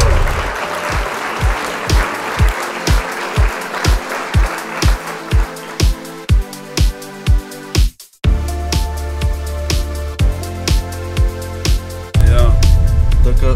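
A small group claps in rhythmic unison on a Father's Day boat trip on the Tebra river. Sharp, close claps land in a steady beat, with voices and outdoor noise joining toward the end.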